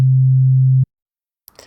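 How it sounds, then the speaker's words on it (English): A pure low sine wave tone from the Fruity Wave Shaper plugin holds steady and loud for under a second, then cuts off abruptly into silence before a faint brief rustle. "with the Fruity Wave Shaper, I can take this sine wave"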